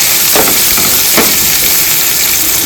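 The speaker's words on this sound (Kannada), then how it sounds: "ಇವಾಗಿದ್ದ ಉಳ್ಳಾಗಡ್ಡಿ ಸ್ವಲ್ಪ ಫ್ರೈ ಆಗತೈತಿ." Chopped onions with green chillies frying for egg roast, a steady broad sizzle in the pan with a couple of brief scraping stir strokes, close and continuous.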